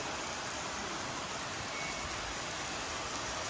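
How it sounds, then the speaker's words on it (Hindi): Steady rain falls during a wedding stay after dark, a continuous broadband hiss with no breaks, moderately loud and even throughout. "बारिश तो रुकने का नाम ही नहीं ले रही है।"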